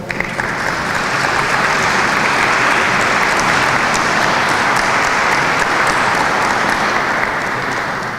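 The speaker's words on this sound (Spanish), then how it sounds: "Un aplauso, por favor." A large audience at a cultural event featuring Valencian folk dances applauds in a dense, sustained wave of clapping that holds steady at full loudness for several seconds before easing slightly at the end.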